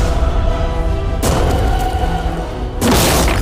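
A tank cannon firing shells, its loud, deep booms coming in two sudden blasts over continuous heavy rumbling noise.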